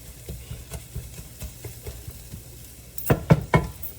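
Corned beef being broken up and stirred in a pot over the fire for Jamaican corned beef and cabbage: soft, continuous low scraping and stirring, ending in three sharper, louder knocks of the utensil against the pot.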